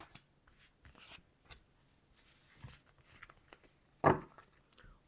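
Playing cards for a tarot-style reading shuffled in quick soft riffles, then three cards drawn and set down with brief sharp slaps, close and quiet, no talking.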